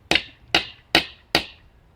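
Four sharp, evenly spaced metallic taps ring out as a sap tap is hammered into a tree, each hit crisp and close.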